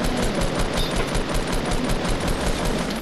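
Rapid automatic gunfire from the Fortnite video game rattles continuously, a dense loud burst of evenly spaced shots filling the whole moment.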